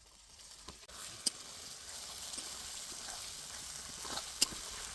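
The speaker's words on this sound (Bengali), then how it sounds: "এবার আমি মশলাটাকে ভালোভাবে কষিয়ে নেব" Ground spice paste frying in oil with browned onions in a pan for a chicken skin masala, giving a steady soft sizzle with a couple of sharp pops and faint stirring scrapes, no talking.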